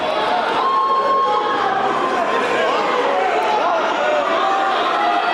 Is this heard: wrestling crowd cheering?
yes